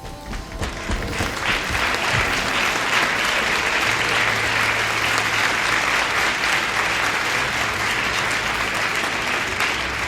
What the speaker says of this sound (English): why are you clapping for him?